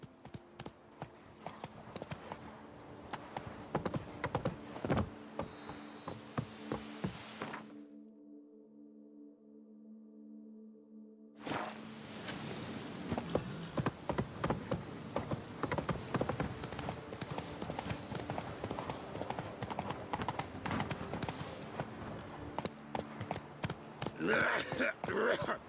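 Hooves of Roach, a horse in The Witcher 3, clopping along at a walk, with a brief quiet gap midway before the footfalls resume amid game ambience.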